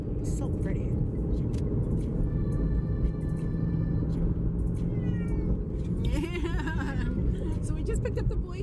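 A male cat meows in protest inside a moving car, several drawn-out, wavering cries over a steady road rumble, with people talking nearby.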